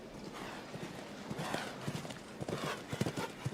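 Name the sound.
horse hooves clip-clopping at show jumping event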